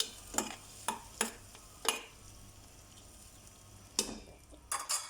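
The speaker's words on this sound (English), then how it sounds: "Make sure everything is mixed well." Dry fish chutney mixture being stirred in a pan, a spoon scraping in a handful of separate strokes spread over several seconds, close and fairly quiet with no talk.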